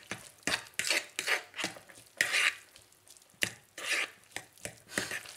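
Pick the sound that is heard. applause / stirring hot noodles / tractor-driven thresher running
stirring hot noodles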